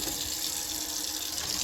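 Water runs steadily from a newly installed Delta 100 outdoor hose faucet, a constant close hiss and splash with no voices.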